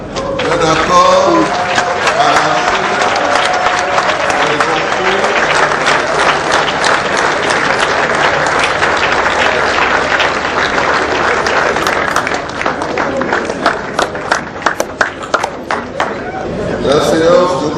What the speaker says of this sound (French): je crois que l'Assemblée unanime se met debout pour acclamer cet accord